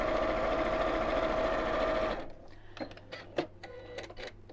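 A sewing machine stitches a quarter-inch seam during a quilting sew-along, running loud and steady for about two seconds before stopping abruptly, followed by quieter scattered clicks and handling sounds.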